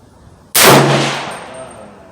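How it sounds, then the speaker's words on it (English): A single loud 300 Blackout rifle shot fired with Barnes VOR-TX ammunition, a sharp crack followed by a long fading outdoor echo. "I'm gonna take one more shot and make sure it wasn't a fluke."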